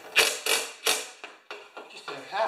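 Nuts are tightened on the discharge chute of a Honda HS720 commercial snow thrower: a series of close, sharp ratcheting clicks and creaks in short bursts, with brief pauses between turns.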